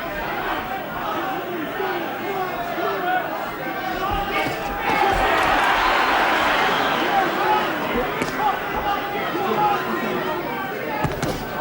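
A packed boxing crowd of 8,000 in the Mill Street arena roars continuously, swelling midway into a louder surge of cheering, with scattered shouts and sharp thuds from the ring and a commentator's voice running over it.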